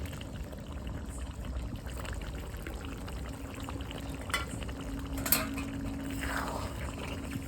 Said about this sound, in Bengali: কাজু পেস্টটা দিয়ে দিচ্ছি